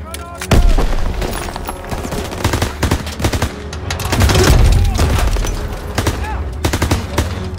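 A grenade blast in a Call of Duty WWII campaign battle, a heavy boom swelling midway through a loud scene packed with rapid machine-gun bursts and gunfire, with voices shouting underneath.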